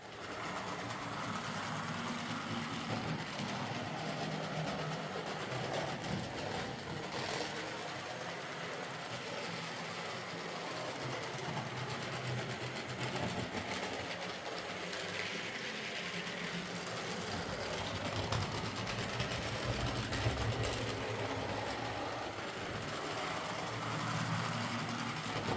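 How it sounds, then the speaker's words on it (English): An old Tri-ang model train runs noisily and clumsily on modern track, a steady, faint mechanical whirr and rattle that continues unbroken with no voices. "But like any old Trang model, it's a bit noisy and a bit clumsy on modern track"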